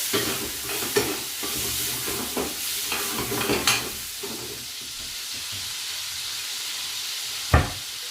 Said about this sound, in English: I'm going to add a bit of butter in for flavor.